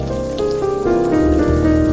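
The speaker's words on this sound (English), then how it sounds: "It's raining buckets." Heavy rain falls in The Blackwell Epiphany, a 2014 adventure video game, as a steady, dense hiss of downpour running throughout beneath a sustained musical score.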